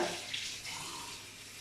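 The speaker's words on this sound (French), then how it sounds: "Je rince mon moule à garnir à l'eau tiède." Lukewarm tap water running over a cake mould as it is rinsed, a steady close splashing flow that stays even throughout, with no voices.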